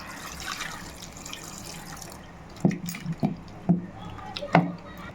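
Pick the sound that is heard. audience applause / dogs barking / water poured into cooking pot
water poured into cooking pot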